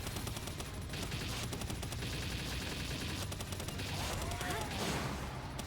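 Rapid sustained Gatling gun fire from the video game Palworld, a dense continuous rattle of shots running loud and steady throughout, with game effects layered over it.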